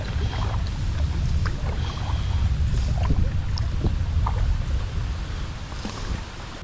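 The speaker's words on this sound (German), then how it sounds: "Ich paddel einfach weiter und bin schon eine Zeit am weiter paddeln." A kayak is paddled along the Amazon river in the jungle, soft splashes and dips of the blade recurring irregularly over a steady rumble of wind and water, with no one talking.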